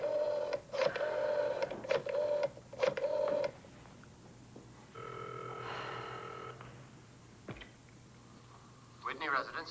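Telephone dialed and ringing in an older household setting: a run of clicking, whirring dial pulses with tonal bursts, then a steady electronic ring tone, a pause, and fresh tones at the end, with faint background noise.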